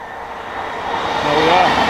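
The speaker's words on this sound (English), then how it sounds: "That is a class 802 of the former Hull Trains operator." A Class 802 train of the former Hull Trains operator runs along the track, its broadband roar building steadily from a distant rumble to a close, loud pass, with a faint high rail squeal near the end.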